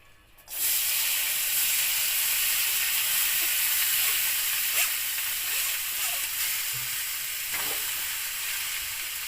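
Chana dal sizzling in hot ghee in a pan over medium heat for Maharashtrian puran poli, a loud steady frying hiss that begins abruptly and carries on with faint stirring scrapes.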